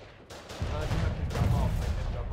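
Gunfire from a Foxhole battle, heavy shots and booms rolling together into a loud sustained barrage with no clear pauses, all fairly close.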